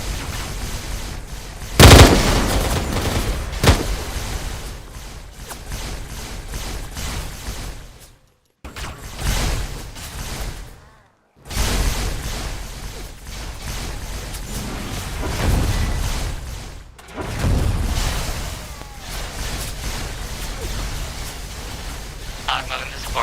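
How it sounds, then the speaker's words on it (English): Grenade explosions and heavy gunfire in a video game fleet battle, loud bursts and booms with a couple of brief gaps, while a voice talks over the combat. "Grenades going out."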